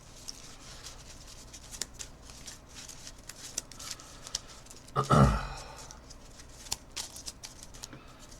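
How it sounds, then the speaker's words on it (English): A deck of Marvel Champions playing cards is riffled in one brief, crisp burst of shuffling near the middle, set against quiet room tone and soft handling. "I'm just going to shuffle, just in case"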